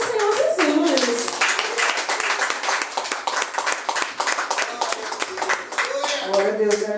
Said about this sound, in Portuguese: E as palmas são para o Senhor Jesus.